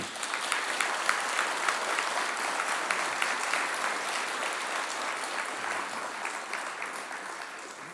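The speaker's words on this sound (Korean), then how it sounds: "이 사모, 한번 뜨거운 박수로 격려해" A church congregation at a Sunday worship service gives warm, sustained applause, a dense wash of many hands that holds steady then slowly tapers toward the end, moderately distant and alone without speech.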